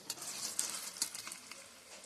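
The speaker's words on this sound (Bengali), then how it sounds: "এরকম করে লাল লাল করে ভেজে নেবো" Raw banana kofta balls frying in hot oil, a soft close crackling sizzle with small bursts and bubbling pops over two seconds, quiet overall.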